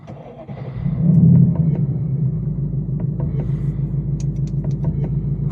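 Ford Mustang GT RTR Spec 3 with 810 horsepower firing up: a brief starter whir, then a loud swelling rumble that settles into a deep, steady, close idle burble.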